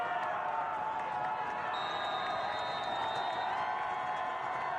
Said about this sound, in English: Lots of noise from the crowd.